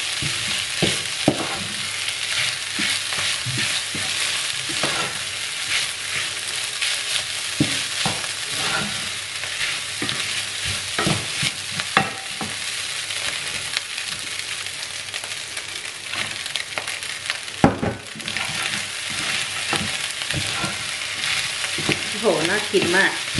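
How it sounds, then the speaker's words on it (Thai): Fried rice with chili fish paste, mackerel and crispy pork rind is stir-fried in a pan. The sizzling is steady and close, with frequent scraping and stirring strokes throughout and no talking. "ผัดไม่ไหม้ติดกระทะเลยจ้ะทุกคน"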